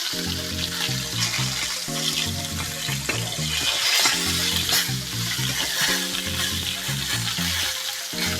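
Vendace fish frying in a pan, a steady crackling sizzle underneath loud overlapping tonal hum and rhythmic background noise, continuous for the whole stretch.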